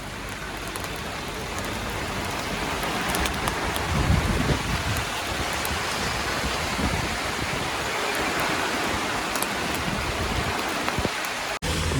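Heavy pouring rain at Malshej Ghat in misty monsoon weather hisses as a loud, steady, dense downpour drumming on surfaces, continuous with no voices.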